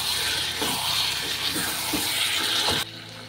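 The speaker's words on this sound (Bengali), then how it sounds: "এখন দেখবো, একটু জল দেবো।" Water gushes steadily into a cooking pot on a home stove for about three seconds, a loud rushing pour that cuts off abruptly near the end, with no voices.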